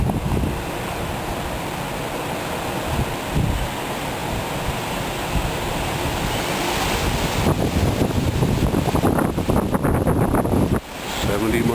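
Strong wind roaring during a severe thunderstorm, a loud continuous rush buffeting the microphone, growing rougher and gustier toward the end.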